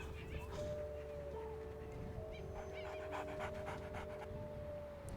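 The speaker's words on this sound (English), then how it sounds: "Who's panting?" A wolf pants steadily and rhythmically in the WolfQuest video game, close and continuous under a low ambient hum and faint game sounds.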